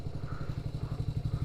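A Hero Splendor motorcycle engine thumps in a steady, rapid rhythm while riding, loud and close, with clattering mechanical noise and no talking.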